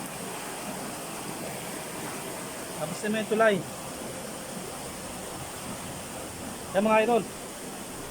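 The steady rushing roar of a strong flowing river fills the air, and someone speaks briefly over it twice.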